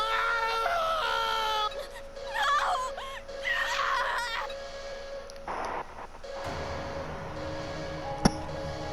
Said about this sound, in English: scientists scream out in agony